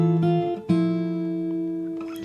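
Fingerstyle acoustic guitar plays a walking bass line blended with the melody: a couple of plucked attacks, then notes ringing and sustaining, heard up close with no talking.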